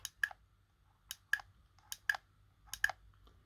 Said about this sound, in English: There's the click of the switch,